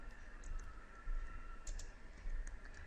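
Computer keyboard keys clicked in quick, irregular bursts while typing a spreadsheet entry, the taps faint and close over a steady low background hum, with no talking.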